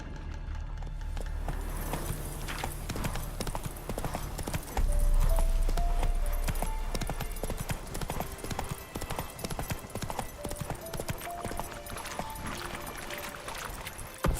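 Horse galloping in a video game, with a quick, rhythmic clip-clop of hooves running continuously and game music tones layered underneath.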